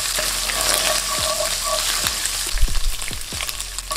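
Beef pancetta fries in olive oil with a loud, close, crackling sizzle, and a few low thumps and scrapes from a utensil push it around the pan.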